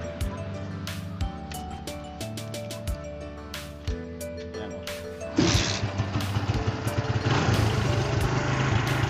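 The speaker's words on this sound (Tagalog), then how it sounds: "nilinisan ng carburetor pero kulang pa sa linis, medyo pilit pang andar" Barako motorcycle engine with a freshly cleaned but still dirty carburetor, first idling roughly after a kick start with uneven, struggling pops, then revving up into a louder, steadier running roar close by.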